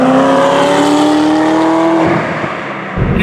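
A Chevy Corvette ZR1 accelerates hard, its engine note climbing loud and steady for about two seconds before easing off, then a brief rise again near the end; no voices.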